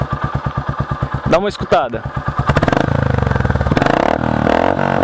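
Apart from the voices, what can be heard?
Royal Enfield Meteor 350 motorcycle engine revving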